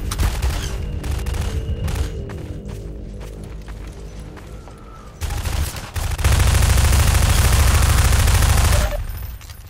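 Half-Life 2 gameplay brings bursts of rapid gunfire, dense and loud, that ease off briefly and then swell into a sustained, roaring barrage near the end.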